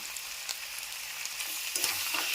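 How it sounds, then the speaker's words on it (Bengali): Potatoes with ground poppy seed paste stirred in a frying pan for aloo posto, giving a soft steady sizzle with light scraping of the spatula, growing a bit louder toward the end, with no talking. "যে পোস্তটা বেটে রেখেছিলাম সেই পোস্তটা আমি আলুর মধ্যে দিয়ে দেব।"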